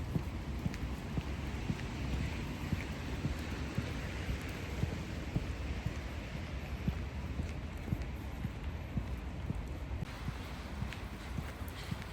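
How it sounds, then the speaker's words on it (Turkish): Steady heavy rain pours down in a dense, constant hiss, with no pauses and no voices. "Bayağı yağıyormuş."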